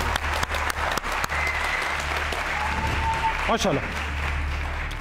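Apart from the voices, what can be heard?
audience applause on live TV show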